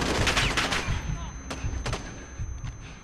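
Rapid bursts of gunfire from Call of Duty: Modern Warfare 1 during the Embassy mission, loud, close and repeated, with clusters of shots that trail off into scattered fire.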